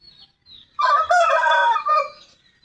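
Shamo fighting rooster, about nine months old, crowing once in a backyard, a loud close crow held for over a second after a few soft clucks, with no talk.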